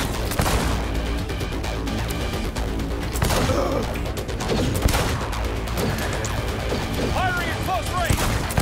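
Dense, continuous gunfight in Cyberpunk 2077 version 2.0 against Downtown NCPD, with rapid overlapping gunfire and crashes filling the clip at high, steady loudness and some game sounds layered in.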